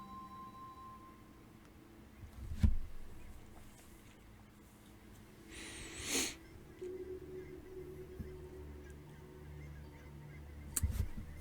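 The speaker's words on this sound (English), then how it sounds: "Geese." Geese honking as they circle outside a window, a few faint distant honks in separate bursts over a quiet indoor background.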